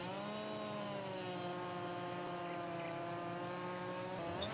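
Chainsaw cutting logs in the video game Farming Simulator 19: a steady, high, buzzing motor whine holds an even pitch throughout, loud and close, with no voices.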